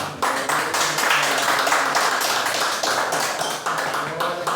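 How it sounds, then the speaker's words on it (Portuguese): Congregation at a Pentecostal prayer meeting applauding, dense rapid clapping that stays loud and close throughout, with a faint voice beneath the claps. "Aplauda o Senhor Jesus aí"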